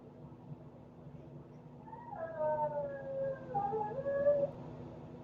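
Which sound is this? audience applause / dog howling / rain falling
dog howling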